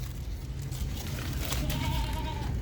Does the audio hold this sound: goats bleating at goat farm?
yes